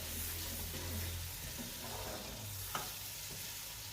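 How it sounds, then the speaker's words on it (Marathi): Paneer curry masala frying in oil in a home kitchen pan, a steady low sizzle with soft stirring scrapes running throughout, close and continuous with one brief clink near the end. "याला चांगलं दोन पाच मिनटं तेल सुटेपर्यंत तळून घ्यायचं"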